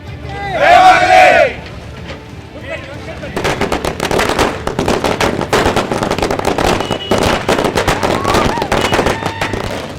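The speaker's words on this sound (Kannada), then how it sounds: "ಹೊಸಮನೆ ಸಿದ್ದಪ್ಪ ಸರ್ಕಲ್ನಾಗ ಪಟಾಕಿ ಸಿಡಿಸಿ ಸಂಭ್ರಮಾಚರಣೆ ಮಾಡ್ಯಾರ" Firecrackers burst in a dense, rapid crackling barrage at a street-circle celebration of a BJP election win in North Karnataka. The crackling is loud and sustained after a brief stretch of shouting voices.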